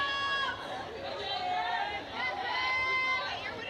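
Spectators chatter at a Bryant vs Clemson women's college softball game, a continuous murmur of many overlapping voices with a few clearer nearby speakers rising above the general hubbub.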